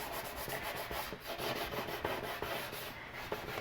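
Steady, rasping rubbing of a damp cloth working over chalk-painted furniture to wet-distress it, a continuous close scrubbing with small repeated strokes and no pauses.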